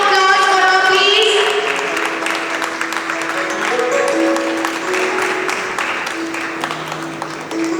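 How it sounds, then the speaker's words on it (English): Audience applause for a student receiving an overall academic excellence award at a school event, a sustained wash of clapping from a large crowd with some voices mixed in and a few tonal notes at the start. "Can we have a huge round of applause for her, please?"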